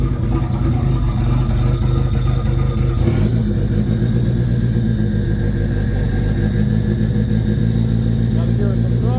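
Mitsubishi Mirage converted with an Evo 3 4G63 engine idling roughly after a cold start following three months parked, a loud, close, uneven rumble that shifts in pitch partway through, with voices talking over it.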